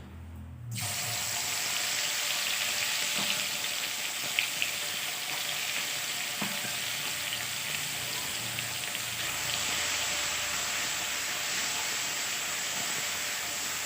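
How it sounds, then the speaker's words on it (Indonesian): Loud, steady sizzling of ground spice paste frying in a hot pan for spicy coconut-milk pindang fish, with a continuous hiss and occasional small pops and clinks. "Kemudian kita masukkan bumbu yang kita ulek tadi."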